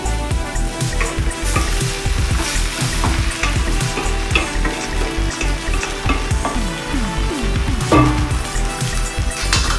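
Cooked greens stirred with onions in a hot oiled pan, frying and sizzling steadily throughout with repeated scraping and stirring clatter up close, no talk.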